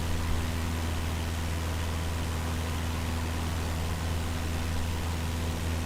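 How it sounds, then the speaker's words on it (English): A Cessna 172 engine drones in Microsoft Flight Simulator, a constant steady hum with a low tonal buzz and broad noisy wash, unchanging and without any voices. "There's an odd engine sound for the 172."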